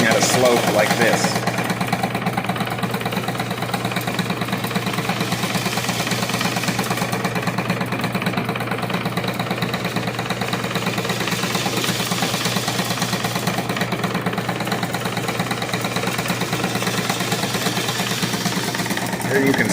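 Seed cleaner with sloped screens runs steadily while separating wheat from oats, a loud continuous mechanical hum with rhythmic shaking and rattling, alone throughout.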